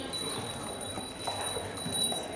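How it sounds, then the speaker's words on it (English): Horse-drawn carriages move through an old walled city as faint hooves clip-clop on the street, set against a steady background hum and distant ambient noise. "You have the carriages and the horses."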